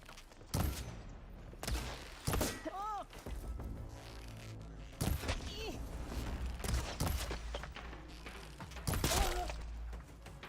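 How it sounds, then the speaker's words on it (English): An enemy loosing three bows at once in Horizon Forbidden West, sharp twangs and impacts in scattered bursts amid combat noise, with voices heard between volleys. "she was firing 3 bows at once"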